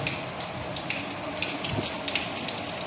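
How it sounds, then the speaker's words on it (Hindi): Light morning drizzle falling steadily, soft scattered patter with occasional sharper drop taps close by, with no talking. "तो ये देखें जी बूंदाबांदी शुरू हो गई है।"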